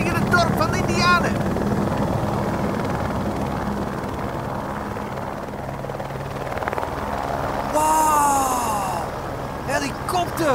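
Helicopters drone steadily over a village, a loud continuous rotor rumble filling the scene, with voices reacting and exclaiming over the noise.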